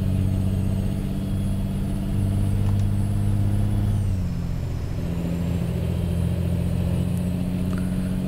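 A modern Cat truck engine in American Truck Simulator, running its engine brake: a loud, steady droning rumble whose pitch sinks partway through as the truck slows, heard alone without talk.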